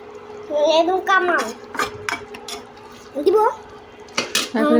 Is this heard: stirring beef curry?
yes